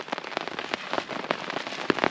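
Rain falling on a camping tarp at night, irregular sharp drops pattering and tapping close overhead over a soft steady hiss.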